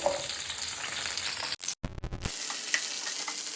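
Grated raw coconut frying in hot oil with a steady close sizzle, broken midway by a few brief clunks and a short silence before the frying resumes.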